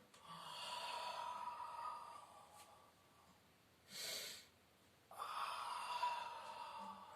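Slow breaths exhaled during a Pilates breathing exercise: a soft, airy hiss repeated several times with pauses between, close to the microphone and faint, with no talking.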